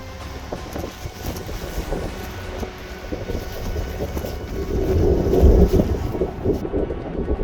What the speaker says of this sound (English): Pointing into the wind.